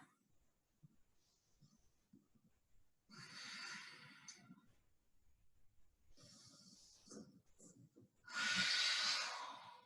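Slow yoga breathing sounds close by, a few long audible exhales and inhales separated by quiet pauses, with faint soft murmurs in between.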